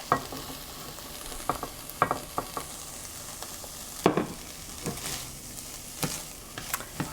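Garlic frying with softened onions in a pan for a vegan chickpea shakshuka, a constant close sizzle punctuated by spatula scrapes and stirring knocks every second or so.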